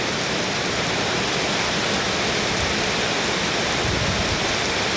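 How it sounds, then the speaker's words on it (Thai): Steady, dense hiss of heavy rain pouring down, broad and constant throughout with no pauses. "ฝนลงมาแล้ว"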